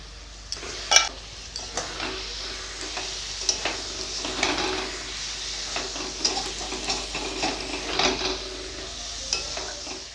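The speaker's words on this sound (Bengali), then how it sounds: "এটাকে ভালো করে কষিয়ে নিব" Small cut chicken pieces are stir-fried in a pan, with a continuous sizzle and frequent metallic scrapes and clinks of the spatula, close and fairly loud, no talking.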